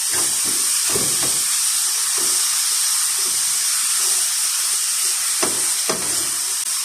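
Rice with shrimp, fish spice and dill being stirred in a hot pan, a steady frying sizzle and hiss throughout with soft scraping stir strokes at irregular intervals, close and alone.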